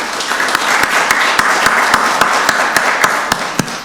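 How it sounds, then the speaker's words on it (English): Loud applause breaks out at a Rockdale County Board of Commissioners meeting: a dense bed of many hands with sharp, distinct individual claps popping out near the microphone throughout. "we want to give him another round of applause for the work he does"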